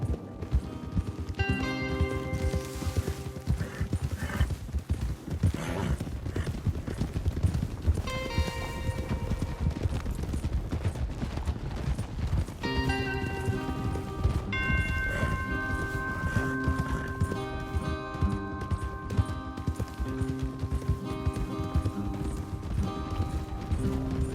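Hooves clatter in a fast, continuous gallop from several horses in Red Dead Redemption 2, set against a musical backdrop of sustained tones.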